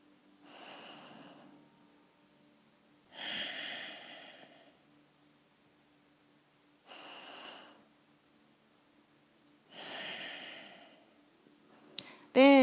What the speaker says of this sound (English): And we'll take a few breaths here.